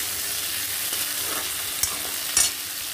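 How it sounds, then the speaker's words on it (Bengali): Mango pieces stirred into hot oil with popping mustard seeds give a steady close sizzle, broken by a couple of brief scraping spatula strokes, with no voices. "এই পর্যায়ে আমি আমগুলি দিয়ে দেব। আমটা দেওয়ার পরে একটু নেড়ে নেব।"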